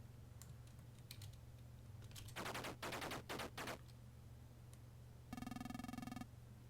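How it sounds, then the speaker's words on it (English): Tank machine guns in the game Armoured Commander fire in several rapid rattling bursts, followed by a longer sustained mechanical burst, fairly quiet against a low background hum. "I'm going to keep shooting at him with my machine guns"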